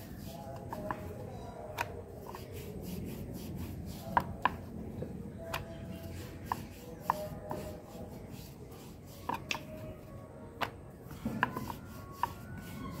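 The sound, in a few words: rolling out spinach puri dough with a rolling pin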